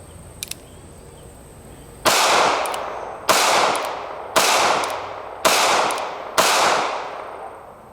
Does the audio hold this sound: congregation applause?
no